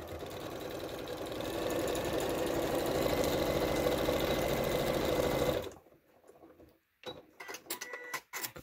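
A sewing machine stitches coated waterproof fabric along a zip for a pouch, running steadily and close for about five and a half seconds, then stopping and leaving quiet handling noises.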